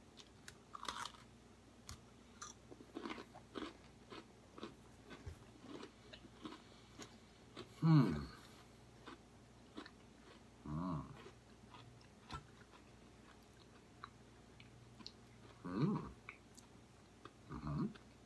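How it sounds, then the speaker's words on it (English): Strawberry Shortcake Oreo cookies bitten and chewed near the mic, a loud crunchy bite around the middle and further crunches later, with quiet murmurs in between. "Well, it has the signature Oreo crunch."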